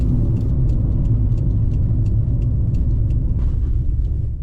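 The Maserati 4.24V biturbo engine runs at a steady idle, heard up close as a deep, even rumble with a slight mechanical ticking layered over it throughout.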